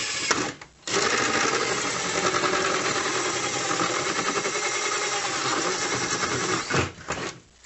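A cordless drill whirs as it bores into a plastic bucket, a steady close buzzing motor that starts with a brief stop-start, runs continuously, then cuts out near the end.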